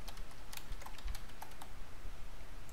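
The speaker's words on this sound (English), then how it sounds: "So I'm going to type my appliance root password." A root password is typed on a computer keyboard, the keys clicking in a quick, uneven run of crisp close taps with no talking.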